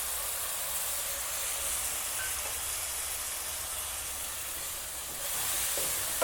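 Puréed tomato sizzles and hisses steadily in a hot frying pan while a potato poriyal is being cooked. The noise is a constant, fairly loud frying crackle with no talk.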